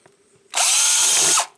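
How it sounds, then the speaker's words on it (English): A power drill bores a hole into a plastic trash can, one loud, steady whine lasting just under a second that starts and stops abruptly, close up and alone. "I'm just going to drill 4 holes"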